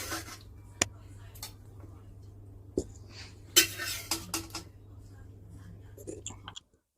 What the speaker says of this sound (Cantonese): 咁我哋將所有材料擺入個煲仔入邊